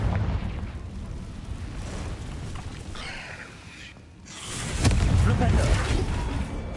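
Confringo blasting spell from Hogwarts Legacy bursting in a rumbling explosion, a swelling boom and crackle that surges loud near the end over a steady low roar of game sound.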